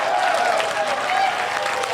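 An audience applauds steadily and fairly loudly, a dense wash of clapping hands that holds evenly from start to finish with no talk on top.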